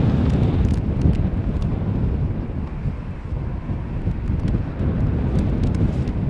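Strong wind buffets a microphone at a plane spotting spot at Schiphol Airport, a loud, constant low rumble and roar with no other clear sounds.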